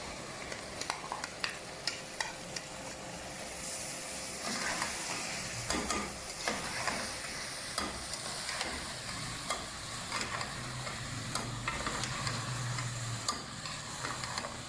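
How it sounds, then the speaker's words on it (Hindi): Chopped ridge gourd goes into a pan of sizzling onion masala for an achari turai dish, and a spoon scrapes and clicks against the pan in irregular strokes over a soft, steady frying hiss. "अभी मैं इसमें तोरी डाल देती हूँ"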